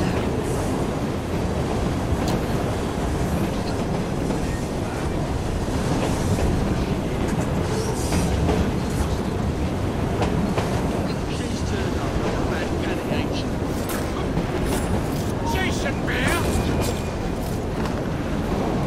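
A moving train in the Assassin's Creed Syndicate video game rumbles steadily with rhythmic clickety-clack of wagons throughout, loud and continuous, with scattered game effects on top.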